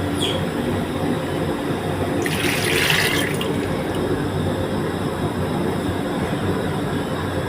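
Rice paste water poured into a Thai snail stew with betel leaves and dill, a short liquid splash and trickle lasting about a second amid a steady background hiss and hum.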